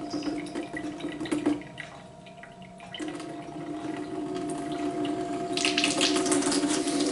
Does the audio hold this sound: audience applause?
no